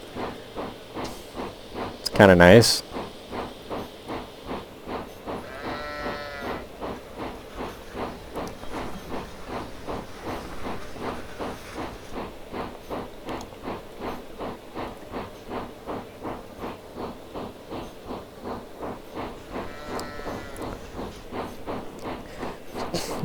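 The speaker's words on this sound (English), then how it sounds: "We do actually have injector steam." Injector steam hisses steadily on an RGS 4-6-0 steam locomotive in Train Simulator Classic, under rhythmic chuffing and clanking. Someone talks briefly over it.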